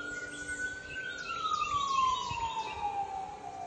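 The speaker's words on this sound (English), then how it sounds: "Uh-oh, siren's going by." A siren wails in the distance, its pitch sliding steadily downward as it passes, over a constant low background rumble.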